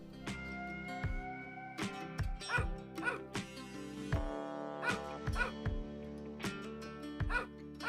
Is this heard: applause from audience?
no